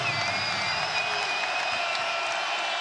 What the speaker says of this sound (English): finally a reason for this crowd to get up and cheer